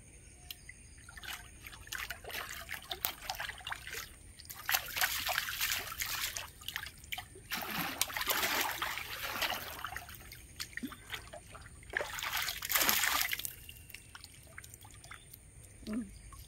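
Water trickles and pours in a few separate bursts, quiet and close, with soft dribbling between the louder gushes.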